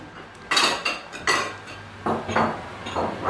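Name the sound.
pots and cutlery as grandma cooks tomato soup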